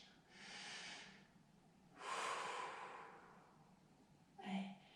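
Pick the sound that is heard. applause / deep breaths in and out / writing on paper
deep breaths in and out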